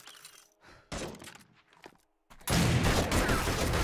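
M60 machine gun fire in the survival game 7 Days to Die: scattered shots and thuds early, then a loud sustained roar of fire filling the last second and a half, with no talk.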